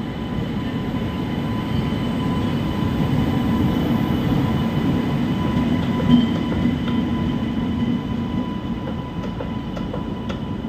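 Electric express train 20601, on its first run after electrification from Madurai to Bodinayakkanur, rumbles steadily and continuously, a loud low rolling drone with faint rail clatter and no voices.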